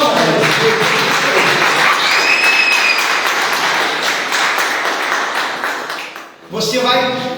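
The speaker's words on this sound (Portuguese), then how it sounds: "Palmas para Jesus." A church congregation claps in a loud, continuous roar of hands, with voices calling out over it; the clapping thins briefly near the end before picking back up.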